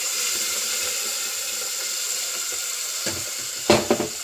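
Spice paste of chili powder and tamarind fried in hot oil for a Goan beef kattsaru gives a steady close sizzle, with a few sharp utensil clinks near the end.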